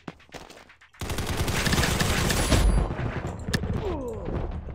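Rapid bursts of automatic gunfire from a PC shooter game, loud and sustained after a brief quiet start, with a sharp ricochet-like whine near the end.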